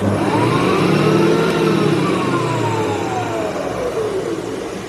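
A milling machine spindle motor whines loudly and steadily at high speed, its pitch rising and then slowly falling as it spins down, close and continuous.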